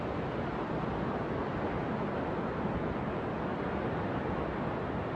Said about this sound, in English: Just listen to the crashing of the waves